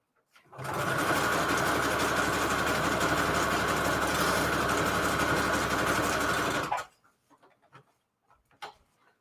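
A sewing machine runs a continuous zigzag stitch on trim for a Christmas junk journal, a steady close whirring buzz for about six seconds before stopping abruptly, followed by faint handling noises.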